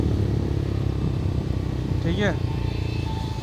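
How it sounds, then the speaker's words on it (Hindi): A Bajaj Pulsar NS400Z motorcycle runs at road speed, its exhaust a steady, loud drone throughout while the rider talks over it. "सिर्फ आवाज़ आती है तो पीछे एग्जॉस्ट की आती है भाई"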